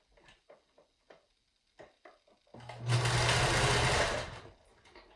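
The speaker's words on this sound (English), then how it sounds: "I'm using a zigzag stitch, so just backtracking a little, sewing forward, backtracking" A sewing machine runs a zigzag stitch attaching elastic to a pleated fabric face mask, starting after a few soft handling taps and whirring steadily for about two seconds before stopping, close and clear with no talk.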